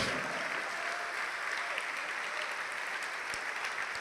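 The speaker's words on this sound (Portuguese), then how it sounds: "vamos aplaudir mais ao Senhor" A church congregation claps at length during a sermon, a soft, even wash of applause heard from a distance, with a hint of room echo and no speech on top.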